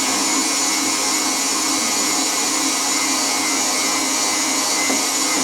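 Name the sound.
electric whisk whisking Swiss meringue buttercream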